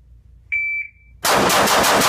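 Shot timer beep followed by a 9 mm pistol firing 13 rounds in rapid succession at an outdoor range, loud close cracks running together into a dense burst.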